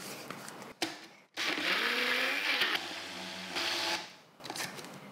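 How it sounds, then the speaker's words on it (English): A blender whirs loudly as it purees vegan ketchup ingredients until smooth, running in a couple of sustained bursts with a brief pause and pitch shifts as the mixture churns. "give this a good blend up for a minute or two until it's nice and smooth"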